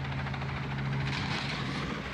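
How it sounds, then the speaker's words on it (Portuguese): A helicopter hovers close by with a steady low rotor drone and a strong tonal hum over the lawn of a castle-style party venue, just before it clips a tower flag, spins and crashes; no crash impact is heard yet. "O helicóptero estava prestes a pousar no gramado do buffet."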